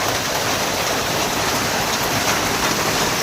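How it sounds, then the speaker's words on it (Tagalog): Heavy rain pours down in a dense, steady roar of hiss with no pauses. "sobrang lakas na naman ng ulan"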